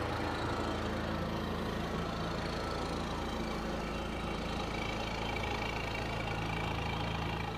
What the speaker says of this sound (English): You can really feel all the air being sucked in to the generator.